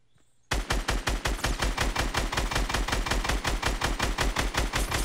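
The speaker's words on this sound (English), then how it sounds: "You're already being shot at." Rapid automatic gunfire in the video game Fortnite bursts in suddenly after a quiet moment and keeps up a fast, even rhythm of loud, close shots to the end.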